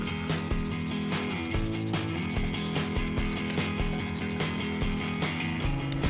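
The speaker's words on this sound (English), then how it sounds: "I'm going to sand it all down" Sanding scrapes back and forth in quick, rhythmic strokes over a rusty metal part from a Tigershark Daytona 1000 jet ski, close and continuous with no voices.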